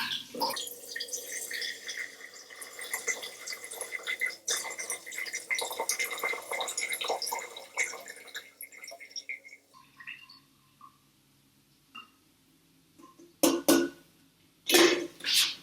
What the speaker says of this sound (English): let's try and sieve this in here without it going everywhere